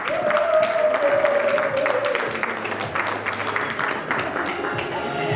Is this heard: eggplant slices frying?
no